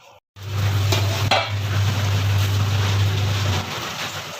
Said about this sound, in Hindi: अब मैं इसकी बुनाई कर लूँ, मुझे 5 से 8 मिनट लगेंगे आलूओं के साथ अच्छी तरह से